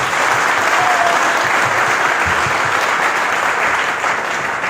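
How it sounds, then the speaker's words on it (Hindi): A packed hall audience breaks into loud, sustained applause, a dense wash of many hands clapping steadily throughout with no voices standing out. "जोरदार तालियां अपने लिए।"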